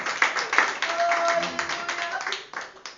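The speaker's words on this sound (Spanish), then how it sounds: "Denle un aplauso al Señor." A church congregation claps in praise during a Spanish-language service, scattered rhythmic clapping mixed with voices and a faint sustained tone underneath.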